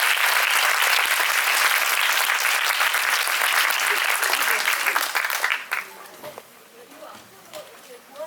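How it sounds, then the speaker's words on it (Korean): An audience at a film screening and director talk claps in loud, sustained applause that fades out after about five seconds, leaving quieter room sounds and scattered voices. "세 분에게 큰 박수 보내면서"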